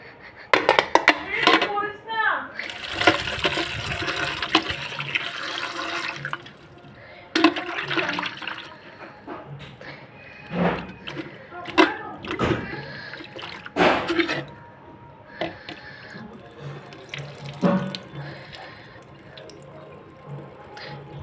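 Tomatoes rinsed under a running tap, with splashing and dripping water coming in uneven surges and pauses, close by, as someone talks over it at times.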